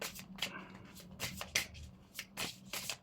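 Oracle cards being shuffled by hand before one is drawn, a soft close riffling and flicking in short bursts, quiet and intimate, with no speech during the shuffle.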